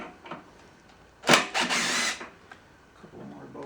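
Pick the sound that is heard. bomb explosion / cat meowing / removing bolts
removing bolts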